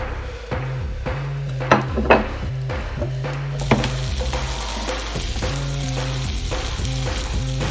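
A burger patty sizzles in a frying pan with a steady, close hiss, a few sharp clinks near the start, and music playing underneath throughout.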